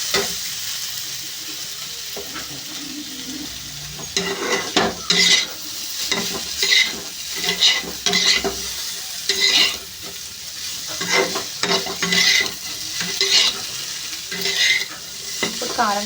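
Potatoes fry with turmeric and chili in a hot pan, a constant sizzle broken by repeated scraping stirs of a spatula against the metal, close and fairly loud with no talking.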